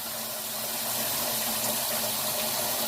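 Rinse water poured off black-eyed peas from under a plate held over a large bowl, a steady close gushing stream with no pauses.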